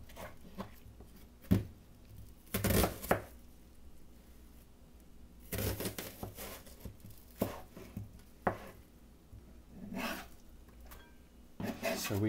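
Onions being cut with a knife, irregular bursts of chopping and slicing strokes, close and crisp, separated by quiet pauses in a calm kitchen.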